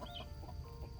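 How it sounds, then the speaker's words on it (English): Young roosters and hens cluck and peep softly nearby, a few short calls over a quiet outdoor background. "I have two baby roosters here."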